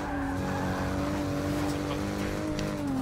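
A race car engine in Forza Motorsport 6 held at a steady high drone while the car accelerates, with tire squeal mixed in, loud and continuous, with a voice briefly heard in the background.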